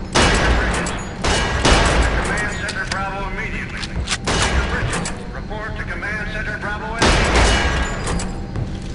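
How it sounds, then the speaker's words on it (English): Gunshots at a firing range in the 2005 video game Area 51, several loud bursts and single cracks spaced through the clip, mixed with game voices and background din. "Step on over to the range and fire off a few shots."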